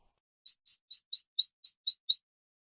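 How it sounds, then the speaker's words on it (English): A bird outside in a video game gives a quick run of eight bright, evenly spaced chirps over about two seconds, clear and close against otherwise total silence. "I can hear the chirps of birds outside"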